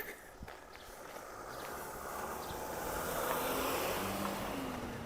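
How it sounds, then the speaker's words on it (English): A delivery truck passes along a downtown street, its broad engine and tire rumble swelling gradually from faint to loud over several seconds, with light footsteps and city ambience underneath and no talk. "Don't get run over by the FedEx truck."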